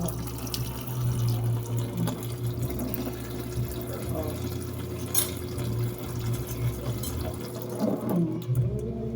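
Water runs steadily from a kitchen faucet into a sink during dishwashing, a continuous splashing stream with occasional clinks and soft background voices.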